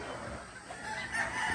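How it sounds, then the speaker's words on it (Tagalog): Breeding roosters and hens at a gamefowl farm in Indang, Cavite make crowing and clucking calls over a noisy outdoor background, moderately loud and continuous through a short stretch. "Ang ganda ng mga manok na to."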